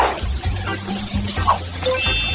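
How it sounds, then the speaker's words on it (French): A toy shower in a Barbie dollhouse runs with a soft, steady splashing hiss of water, close by and unbroken. "Oh, et on prend une douche."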